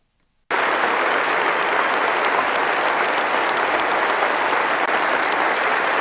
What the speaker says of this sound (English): that's what these people are cheering